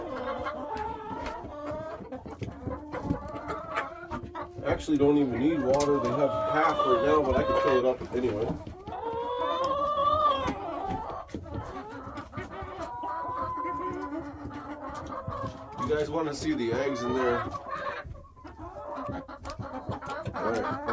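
Brahma hen and other chickens clucking softly inside a coop after a snowstorm, the low clucks running beneath a person talking close by for most of the stretch.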